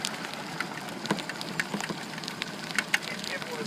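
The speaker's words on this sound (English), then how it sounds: "Just as the rain comes, as usual." Rain falls at a lake during a fishing trip at Kipawa Lodge, a steady soft patter with scattered crisp drops and small splashes, fairly quiet and close throughout.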